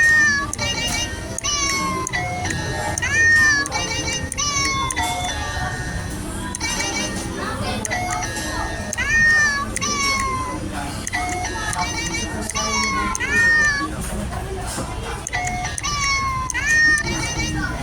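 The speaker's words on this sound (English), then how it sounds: "this cat keyboard is very nice" A toy cat keyboard plays repeated electronic meowing sounds, loud and close, with a busy, steady backdrop and a person talking over the meows.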